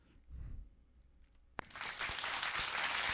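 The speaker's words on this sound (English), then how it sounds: "I don't know why there's clapping there." A crowd breaks into sudden applause partway through, a dense wash of clapping that stays loud to the end after a quieter opening.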